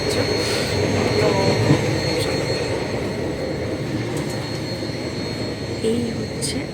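A passenger train runs at midnight, a steady low rumble and rattle heard from inside the carriage, continuous and fairly loud throughout.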